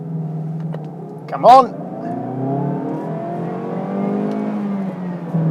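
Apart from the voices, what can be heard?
car engine accelerating during launch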